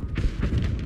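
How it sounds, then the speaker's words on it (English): Artillery fire in the video game Battlefield, a brief cluster of deep, muffled booms and thuds rolling together in the distance. "Is that our artillery or theirs?"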